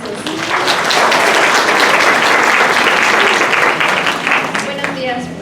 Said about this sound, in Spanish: Por favor, maestra, un aplauso.